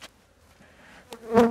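Honeybees buzz close by during a honey harvest from a full super with smoke, a brief faint hum that swells into a loud, near buzz at the end.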